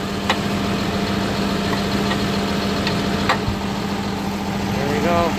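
A tractor engine idles in a steady, low, loud drone, with occasional faint clicks and knocks over the hum.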